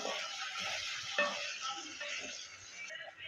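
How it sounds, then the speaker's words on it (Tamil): Chilies and curry leaves sauté in a hot pan, a steady broadband sizzle with faint stirring scrapes and one brief sharp clink near the middle, close and fairly quiet throughout. "கூட மூணு மிளகா கொஞ்சம் கருவேப்பிலை இப்போ இதை நம்ம வதக்கி விட்டுக்கலாம்"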